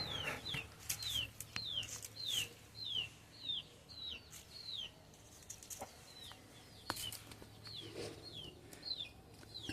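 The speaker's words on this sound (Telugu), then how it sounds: "ఇది మాత్రం మంచి వాటమున్న పుంజు, ఫైటింగ్ పరంగా కానీ." A fighting rooster, a good-quality breeder bird, gives a run of repeated short clucking calls in a steady rhythm, close and clear over a quiet farmyard background, with a few faint knocks and rustles.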